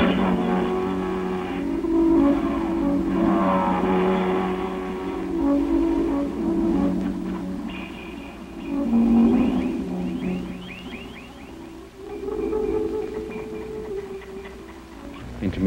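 Rolling balls moving across a sound sculpture in an art space, producing a continuous layered wash of shifting tones, rumbles and ticking textures that swell and fade without speech.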